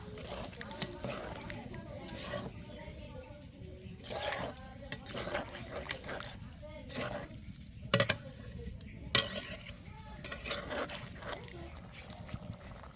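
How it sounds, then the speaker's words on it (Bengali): A spoon scrapes and clinks against a pot while a small-fish curry with taro stolons is stirred after water is added, in a village kitchen. The stirring comes as scattered, faint knocks and one or two sharper clanks beneath continuous talking. "জল দেওয়ার পর আবার নাড়াচাড়া করতে হবে ভালো করে।"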